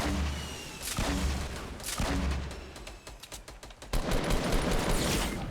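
Gunfire erupts in a Fortnite Battle Royale match, a series of heavy booming shots and rapid bursts in close succession, loud and chaotic with no voices over it.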